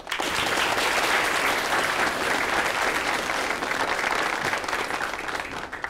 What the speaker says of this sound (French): Quelques applaudissements pour lui, s'il vous plaît.